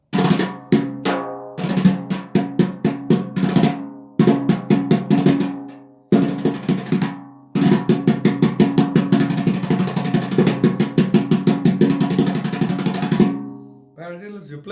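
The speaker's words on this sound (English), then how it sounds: "Paradiddles, you're playing paradiddles." Quick, even rolling paradiddle strokes played with brushes on a snare with soft, brushy attacks, in bursts separated by short pauses, close and fairly loud.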